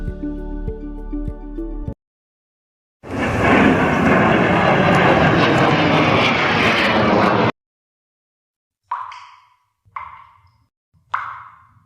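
A loud jet plane roars for several seconds, broad and continuous, between a short musical tone at the start and a few soft drips afterward.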